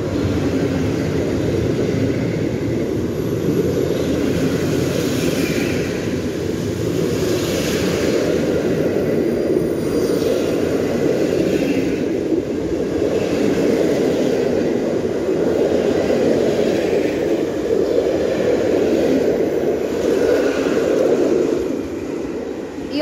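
The TLK Rozewie passenger train from Hel and Gdynia, bound for Kraków Główny and Szklarska Poręba Górna, runs through a Bydgoszcz station at night with a long, loud, continuous rolling roar and rhythmic wheel pulses, no talk over it.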